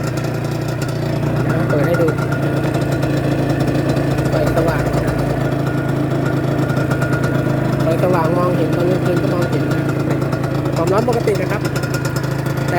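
A Honda NSR150R two-stroke motorcycle engine idles steadily and loudly up close throughout, with someone talking over its constant drone.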